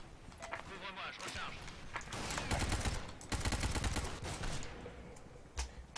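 Bursts of automatic gunfire crackle in the online shooter S.K.I.L.L. Special Force 2, rapid volleys growing denser mid-way, with a single sharper shot near the end and game sounds behind the shooting.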